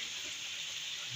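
Water pours steadily into a large pot of degi chana biryani being cooked in bulk, a continuous hissing gush at moderate level with no talk.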